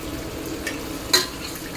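Chicken stirred in a pan with oil and salt, giving a soft continuous sizzle with a couple of brief scrapes and one sharper clink of the utensil against the pan near the end, close and without voices.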